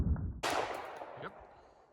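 A single gunshot cracks out sharply, loud and close, then decays into a short echo at an outdoor shooting session, with no speech over it.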